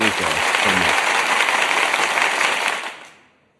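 Loud, dense applause from a crowd fills the clip, steady throughout, then fades out at the end. A voice is briefly heard at the start.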